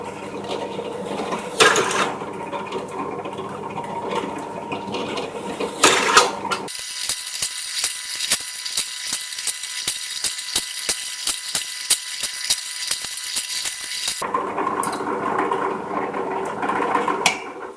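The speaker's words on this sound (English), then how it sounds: "So drilling it is. Just make holes near the edges, near the edge." A drill bores holes near the edge of a jar lid, used to make a curing jar with a hygrometer. The close, steady grinding whir runs for several seconds between sharper handling clatter.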